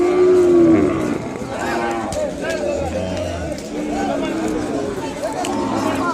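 At an Ongole cattle market in Kodada, a calf lets out a loud, close moo at the start. Livestock sounds and people talking nearby continue behind it for the rest of the clip.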